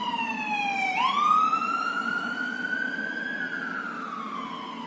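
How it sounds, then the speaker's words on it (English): A police car siren wails past on a nearby road, its tone sweeping down and then back up in long, loud glides over a steady traffic hum, with no talking. "Excuse the police car coming past on the road."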